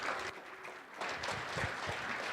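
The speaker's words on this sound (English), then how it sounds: "How about a round of applause?" Applause at a tech conference keynote as three presenters come on stage, a brief, moderate round of clapping from the audience that swells and continues steadily.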